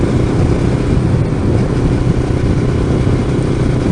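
A Kawasaki Ninja 500R street motorcycle engine runs steadily at close range, a constant loud mechanical drone with no clear revs or pauses and no talk.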